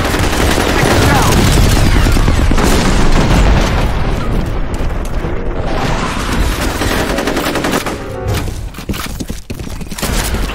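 Grenade and explosive blasts with heavy gunfire in the shooter F.E.A.R. Combat during a capture-the-flag match, loud and continuous booms and rattling shots that thin out and turn patchier toward the end.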